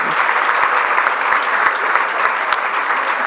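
An audience at the 2019 PWBA Hall of Fame induction ceremony claps in a steady, dense round of applause that holds at an even level throughout, with no voices over it.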